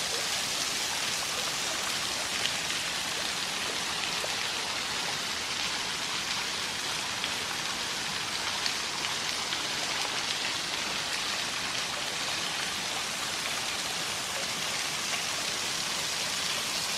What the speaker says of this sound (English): Waterfall number 5 up here.